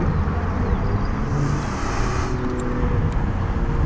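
Opel Mokka being driven on a race track, a steady close broadband engine and road roar with tyre noise that holds at an even level throughout, no pauses or voices.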